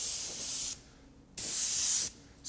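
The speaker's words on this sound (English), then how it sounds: "And I'm going to come in and spray fairly wet" Airbrush spraying a wet coat of bright pearl silver Marbleizer paint in two steady hissing bursts separated by a short pause, close and alone.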